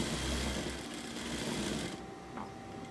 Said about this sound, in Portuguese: vamos passar uma costura reta aqui nessa lateral.